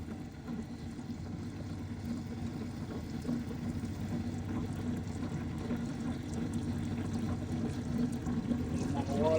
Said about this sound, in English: Water going on it.